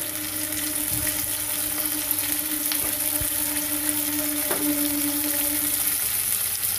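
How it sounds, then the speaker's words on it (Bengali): Food sautéing in a pan over a high gas flame for a roti pizza topping gives a steady, even sizzle throughout, with a few faint clicks and scrapes and a low hum beneath, no talk. "দু থেকে 3 মিনিটের মতো সটে করে নেব"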